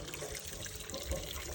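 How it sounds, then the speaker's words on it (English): Water gushes steadily from a newly installed 70-foot-deep hand pump in the Thar desert of Sindh, Pakistan, making a continuous close splashing flow. "10 families will get water from this hand pump."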